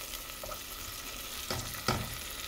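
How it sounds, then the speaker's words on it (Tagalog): Garlic, tomato and onion sauté in a pan, a steady crackling sizzle with two louder scraping stirs near the end, close and with no one speaking. "spices ko ay bawang, kamatis, at sibuyas. Pinakaramalize ko muna yung kamatis"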